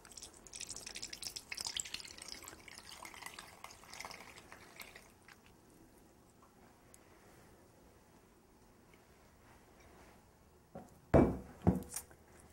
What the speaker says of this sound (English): We just pour this right into the pie shell.